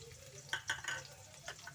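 Long-sliced onions hit well-heated oil in a pan for pepper chicken, giving a faint, steady sizzle broken by a few soft stirring scrapes, with no talking.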